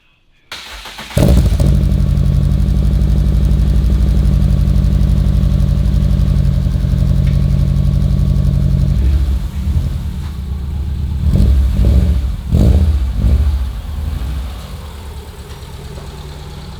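Subaru 2.5RS with a fuel leak, its engine starting up after a click and idling loud and steady, then shifting and revving unevenly as it drives toward a gas station.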